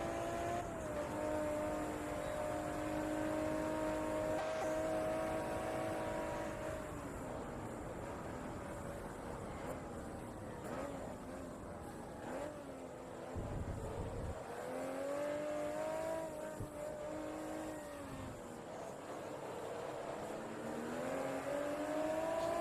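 Race cars in Forza Motorsport 2, GT-class machines, with engines droning and rising in pitch as they accelerate along a straight, shifting through gears in a steady, continuous loud roar.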